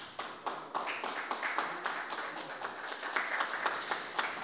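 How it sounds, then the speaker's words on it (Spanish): A crowd applauds steadily, many hands clapping in a dense, even patter that carries on without a break at moderate volume. "Lo celebramos con un merecido aplauso."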